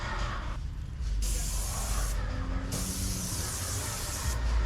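Paint sprayer spraying primer onto house siding, a steady close hiss in several bursts separated by short pauses, with no talking.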